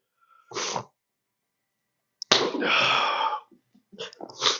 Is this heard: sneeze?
yes